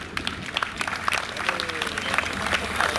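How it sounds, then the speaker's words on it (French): Spectators clap for a rider at the Grand Prix de Fouchy 2020 cycling race, outdoors; scattered, uneven applause builds in density over a few seconds, with a faint voice in the background. "on peut l'applaudir"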